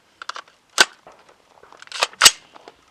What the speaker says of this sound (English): So I'm going to fire some shots